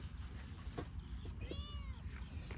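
A cat gives a short, faint meow, a single rising and falling cry heard over a noisy outdoor background.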